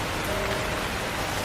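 Steady rain falls in a cartoon scene, an even hiss of drops on surfaces that stays constant throughout, with no speech.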